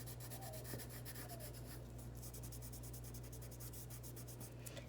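Graphite pencil shading on paper while darkening a drawn cylinder or cone, a steady soft scratchy rubbing that continues without pause at close range, with no talk over it.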